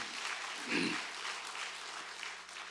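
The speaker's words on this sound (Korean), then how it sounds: "찬양 받으신 하나님께 영광의 박수 올려드리겠습니다" A church congregation applauds during a Sunday worship service, a soft, steady patter of many hands clapping in a large room, faint and sustained throughout.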